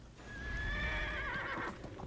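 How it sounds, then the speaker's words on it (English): A horse in the video game Neverwinter on PS4 gives one long, loud, close neigh that rises and trails off, with no talking. "Let's get on our horse and ride."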